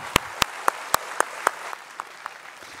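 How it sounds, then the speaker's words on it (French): At an energy awards ceremony, an audience claps for label recipients: a handful of loud, evenly spaced claps up close over a faint background of scattered applause that thins out and fades toward the end. "vous pouvez les applaudir"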